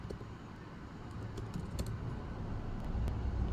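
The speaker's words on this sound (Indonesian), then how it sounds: "kita harus mengetik di bagian URL di Chrome. Nah, kita mengetik localhost" Keys clack on a computer keyboard as localhost is typed into the Chrome address bar: a quick run of light taps, faint under a rising low background rumble.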